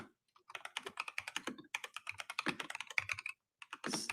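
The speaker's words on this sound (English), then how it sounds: "I'm just typing out the titles here." Rapid bursts of computer keyboard typing, close and fairly quiet, with short pauses between runs of keystrokes and no voices.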